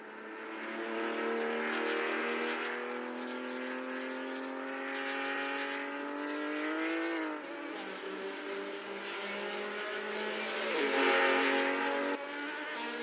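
Engine notes of race cars in a virtual racing video game drone steadily throughout, a sustained harmonic whine that rises and dips with shifts, loud and continuous with no talking.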